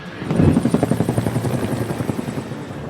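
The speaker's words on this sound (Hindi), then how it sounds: "रेस्क्यू ऑपरेशन के लिए हेलीकॉप्टर पहुंचा तो परेशान हाल लोग उसमें चढ़ने के लिए भागे।" A rescue helicopter arrives over a landslide-damaged area, its rotor thudding in a loud, fast, steady chop that swells early and then holds close.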